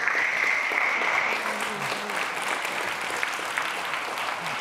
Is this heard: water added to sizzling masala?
no